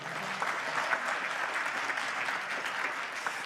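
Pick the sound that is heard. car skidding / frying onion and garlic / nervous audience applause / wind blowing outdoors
nervous audience applause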